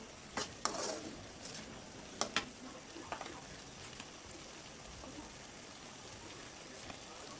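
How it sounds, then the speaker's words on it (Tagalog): Sliced onions and chicken liver being stirred in a pan, with soft scraping strokes and intermittent clicks of the utensil over a faint, steady sizzle, quiet and close. "ituloy-tuloy lang po natin yung paghalo"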